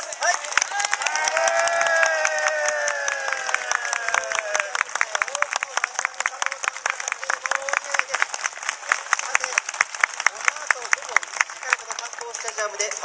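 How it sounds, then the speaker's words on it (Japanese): A crowd at a stage event before the Fagiano Okayama versus JEF Chiba football match claps together in a steady, rhythmic beat. A voice speaks over the first seconds, then the regular hand claps continue alone for the rest. "皆さん大きな拍手をお願いします。"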